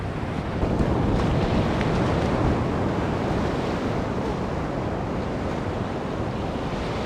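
Surf waves break on a Costa Rica beach, a continuous heavy roar of wash and rumble with wind buffeting the microphone, steady and loud with no voices.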